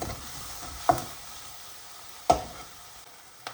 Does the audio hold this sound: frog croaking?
no